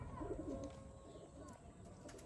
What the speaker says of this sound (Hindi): ये देखें जी दोस्तों पूरे नवाबी कबूतर